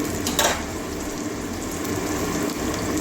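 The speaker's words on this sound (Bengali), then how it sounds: "একটুখানি পেঁয়াজটা ভেজে নিচ্ছি" Chopped onion frying in hot oil for a Bengali potato, cauliflower and carrot dish, giving a steady, close, loud broadband sizzle with a soft crackle throughout and no voices.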